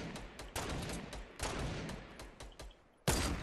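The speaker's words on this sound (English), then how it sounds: "Shots, northeast." Bursts of rapid gunfire in a battle royale video game crack out in several distinct volleys, loud and close, separated by short gaps, with a final sharp burst near the end.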